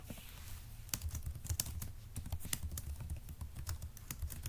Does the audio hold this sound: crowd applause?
no